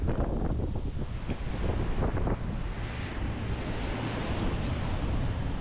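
Strong wind roars across the microphone at an ocean shore during shark fishing, a dense, continuous rush blended with surf and no talking.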